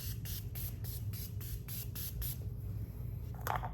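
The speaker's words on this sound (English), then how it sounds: "This is the second time I'm spraying my face." A series of quick hissing bursts of setting spray onto a face in a steady rhythm, about eight close pumps in a row, followed by a pause and one final spritz.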